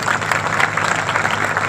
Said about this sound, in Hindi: ये माताएं और बहनें जिस जोश के साथ तालियां बजा रही हैं